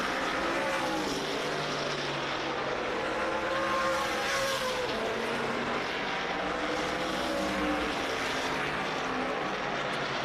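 Race car lapping Dominion Raceway, a steady distant engine drone holding for the full stretch with gentle rises and falls in pitch, no voices over it.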